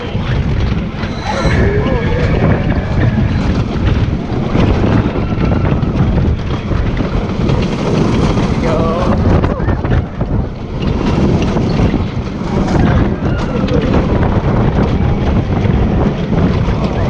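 The Tidal Twister roller coaster at SeaWorld San Diego, recorded on board as a loud, continuous roar of wind buffeting and rushing track noise throughout, with riders' voices faintly mixed in.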